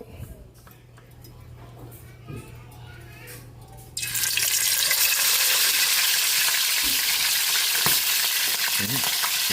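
A loud, bright sizzle bursts in as chicken hits hot oil and keeps crackling steadily, following a quieter stretch of kitchen sounds.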